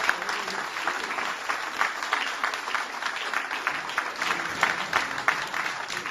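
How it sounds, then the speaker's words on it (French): Audience applause at a chess prize-giving ceremony: steady, dense clapping from a crowd that holds its level for several seconds without a break. "Alors je voudrais que vous applaudissiez tous Titouan."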